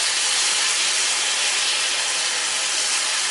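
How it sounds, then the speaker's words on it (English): Chicken breast searing in a hot pan, a steady loud broadband sizzle that holds constant throughout with no talking. "you want that good sear on the outside, because chicken breast has a tendency to get dry"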